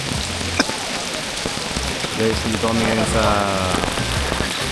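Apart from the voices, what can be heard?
heavy rain on a tent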